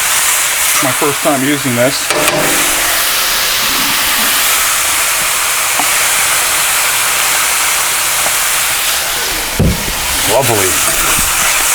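Olive oil hisses and sizzles steadily and loudly on a hot Dyna-Living 22-inch commercial electric flat-top griddle while cheese steaks cook, with a person speaking briefly over it near the start and end.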